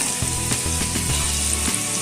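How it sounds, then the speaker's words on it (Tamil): Chopped ginger and garlic fry in hot oil in a pan, a steady loud sizzle with a few stirring scrapes and no talking. "இஞ்சி பூண்டை நல்லா ஃப்ரை பண்ணிக்கோங்க."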